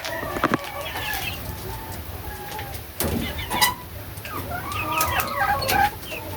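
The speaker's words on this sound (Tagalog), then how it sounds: "may ipapakita pala ako sa inyo sa sisiw ko" Young chicks peep with short, high chirps in scattered bursts, mixed with softer clucking from nearby poultry against a quiet background.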